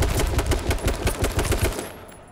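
Video-game automatic gunfire rattles in a fast, loud, close burst of rapid shots that trails off near the end.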